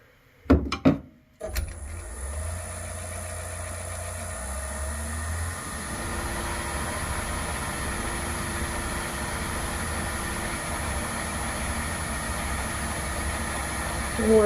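A wood lathe spinning a red oak bowl blank at about 800 RPM, a steady mechanical hum with a faint high whine and slight wobble, close and continuous after a few brief knocks at the start.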